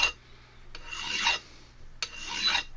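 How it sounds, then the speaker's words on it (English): A hand file rasps across rough metal on a Webley Premier MK II revolver in two long strokes, each a harsh scraping rush that swells and fades, heard close and alone with no talk. "With a file and some sanding, finally got the worst of the offensive out."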